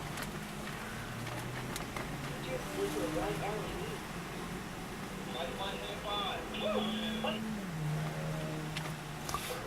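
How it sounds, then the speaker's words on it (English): Strong wind storm in Victorville, California blows steadily and roughly across the microphone, with a continuous rushing roar that never stops and swells in gusts, while a person talks over it and a passing vehicle hums faintly. "The wind doesn't stop. It slows. But even that slow is pretty strong."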